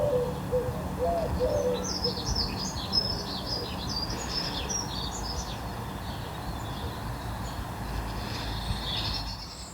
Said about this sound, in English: There's a blue tit making the sorts of sound they make when they sound annoyed.